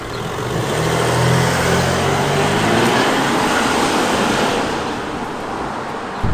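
A tuned Audi A5 drives on the road in sports mode, with a steady engine drone and loud road and wind roar throughout.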